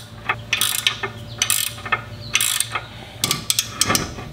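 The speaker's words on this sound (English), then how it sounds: "So hold it in place and tighten this down until the ball joint doesn't move anymore." A wrench ratchets in quick bursts of clicking as it tightens a ball joint nut, the close, loud pawl clicks coming in short uneven runs with brief pauses between them.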